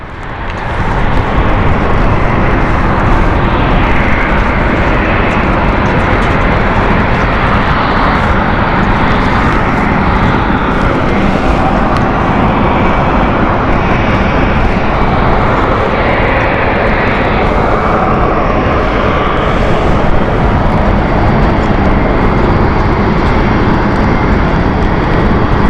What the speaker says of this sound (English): we have currently on the runway going out is the Frankfurt flight. That is next to depart.